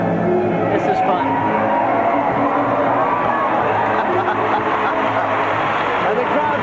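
A large arena crowd at a 1988 USA and USSR gymnastics exhibition keeps up a steady, loud roar of cheering and chatter, with a commentator talking over it.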